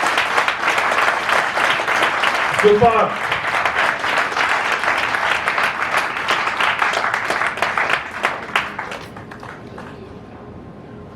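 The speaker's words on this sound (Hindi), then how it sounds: "जबरदस्त तालियां बनती हैं आपके लिए तो।" A crowd at a business success-story event applauds with dense, continuous clapping for around nine seconds before fading out, and a single voice calls out briefly partway through.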